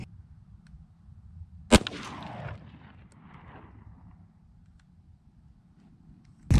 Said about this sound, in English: we just shot the 20 gauge with the Winchester 20 gauge load